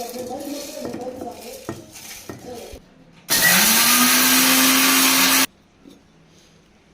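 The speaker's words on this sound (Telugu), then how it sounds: "ఇంకా ధనియాలు మొత్తం అయితే మిక్సీ పట్టేసుకుందామండి" Coriander seeds being ground in an electric mixer grinder, a loud steady whirring burst of about two seconds after some clinks of kitchen utensils, then quiet.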